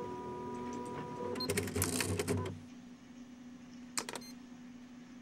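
Mechanical printer in the One Late Night video game, set in an office, whirring and clattering loudly in a dense burst for about a second before cutting off, followed by quieter hum and two brief clicks.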